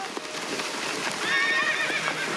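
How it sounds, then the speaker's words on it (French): A herd of horses gallops across the open Camargue wetlands between land and sea, dense drumming hooves rolling continuously while a clear whinny rises midway, loud and close, with no talk. "Des chevaux au galop."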